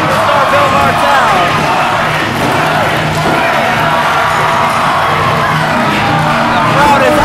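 A wrestling crowd at an MCW Riot television event roars and cheers after a match, a loud, dense wall of voices that holds steady throughout.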